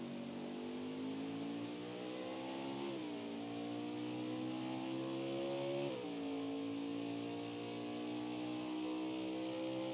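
Race car engine in an Xfinity Series racing video game on the Indianapolis road course, holding a steady high drone, with two quick dips and revs as it shifts, continuous and loud with no talking.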